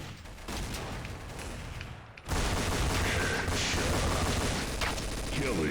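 Pistol fire in Counter-Strike: Source, with rapid repeated close shots, a short dip, then a louder dense volley of overlapping gunfire that continues to the end.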